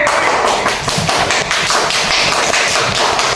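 A classroom of students applauds a group of classmates, with dense, steady clapping filling the room from many hands at close range and no talk over it.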